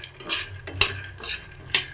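Peanuts being dry-roasted in a pan for a bitter gourd gojju, with a spatula scraping and clinking against the metal in two or three distinct strokes over soft rustling, close and fairly loud, no talking.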